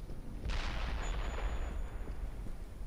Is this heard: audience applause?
no